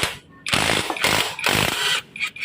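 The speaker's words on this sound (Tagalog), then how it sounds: "Kalasin natin yung isang engine bolt." Loud bursts of power-tool rattling, like an impact wrench, loosening an engine bolt on a Kawasaki HD3 motorcycle engine, three long runs with brief pauses between them.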